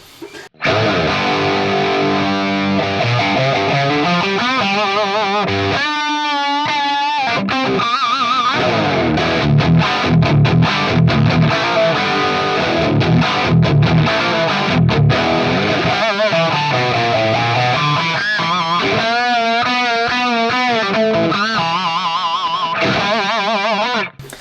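Heavily distorted electric guitar through an Axe-Fx III Marshall 1987 amp model, playing chords and riffs with crunchy amp tone, loud and continuous, with brief pauses between phrases.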